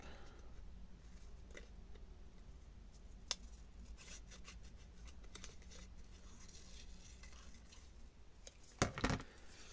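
Scissors cut paper for a mini scrapbook album, soft snips and rustling scrapes heard close and quiet, ending in a brief louder burst of paper handling.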